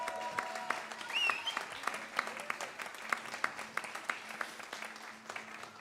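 An audience applauds at an evening event: scattered, fairly quiet clapping with distinct individual claps standing out, continuing steadily throughout.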